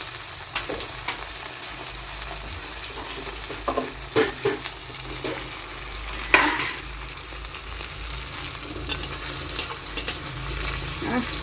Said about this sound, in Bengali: এবার এর মধ্যে দিয়ে দেবো আমি ম্যারিনেট করা চিকেনগুলো।